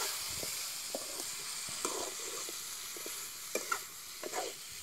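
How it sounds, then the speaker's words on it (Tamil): Vegetables sauté in a pan over a medium flame for a Chettinad country chicken dish, a soft steady sizzle with occasional scraping stirs, close but fairly quiet. "காய்கறி வந்து பார்த்தீங்கன்னா ஒரு 2-4 நிமிஷம் வரைக்கும் நல்லா வந்து வதங்க விடுங்க மிதமான தீயில்"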